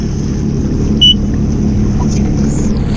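Super yacht engine running loud and steady, a deep continuous rumble that holds through the whole stretch with a slight lift as the throttle opens, plus a brief high beep near the middle.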